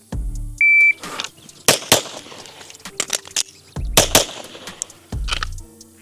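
Sharp pistol gunshots from a Staccato HD P4 or Glock 17, several loud, close reports in uneven spacing with brief electronic beeps between them, likely a shot timer, and no talking.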